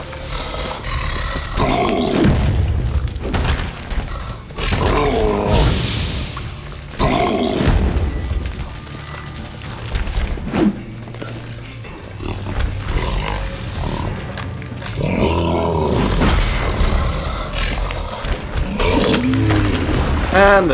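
Ice troll in The Witcher 3 roaring and grunting in heavy, repeated bursts, loud and close, mixed with booming thuds of combat and fire.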